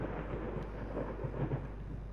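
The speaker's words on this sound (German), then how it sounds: "Ich liebe Gewitter." A thunderstorm in the horror video game Layers of Fear gives a steady low rumble of thunder mixed with rain hiss, continuous and moderately loud, with no one speaking.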